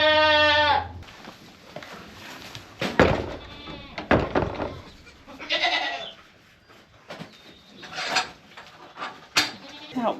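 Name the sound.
goats bleating on a farm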